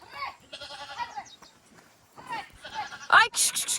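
Goats on a village farm give a few short, loud bleats close by near the end, after a stretch of nearby talking and shuffling.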